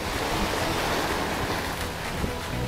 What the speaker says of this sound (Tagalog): may alon konti.